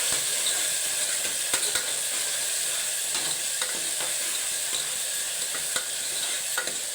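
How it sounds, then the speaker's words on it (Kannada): Spice paste for a fenugreek rice dish fries in a pan with a steady close sizzle, while a utensil scrapes and stirs at irregular intervals; there is no talking. "ಪೇಸ್ಟ್ ಹಾಕಿದ್ಮೇಲೆ ಫ್ರೈ ಮಾಡ್ಕೊಳ್ತೇನೆ."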